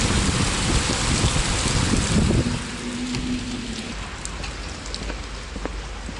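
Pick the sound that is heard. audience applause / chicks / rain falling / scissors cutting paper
rain falling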